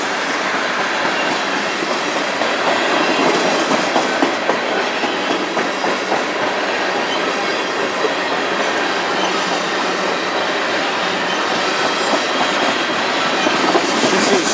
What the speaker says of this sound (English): Train number 3 today for me